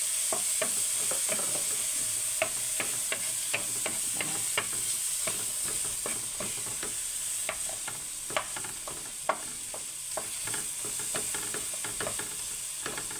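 Tomatoes, garlic and onion sautéing in a pan, a steady sizzle broken by repeated scraping and stirring clicks of a utensil against the pan, close and continuous with no talking.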